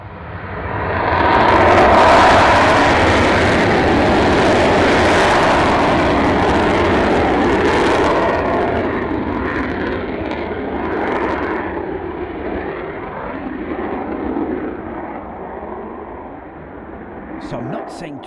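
A fixed-wing aircraft, call sign Rampage 61, takes off after tower clearance. A loud engine roar swells over the first seconds, then slowly fades as it climbs away, with radio voices and talk mixed in.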